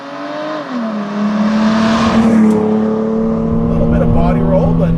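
A 1995 Mercedes C36 AMG sedan on the move, its engine note climbing and settling as it accelerates through corners, heard from inside the cabin with people talking over it.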